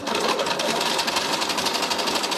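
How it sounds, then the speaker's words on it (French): A sewing machine stitches a seam on a fabric pouch in a steady, continuous whir with rapid, even needle pulses, close and loud without any talk. "je laisse la machine faire son entraînement tranquillement"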